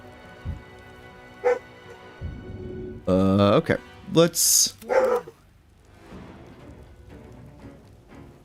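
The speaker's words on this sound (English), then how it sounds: "I don't know what she's barking at now." Dog barking in the game Baldur's Gate 3, a few sharp loud barks in a short burst midway, with someone talking before and rain-like ambience underneath.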